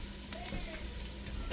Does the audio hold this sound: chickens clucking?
no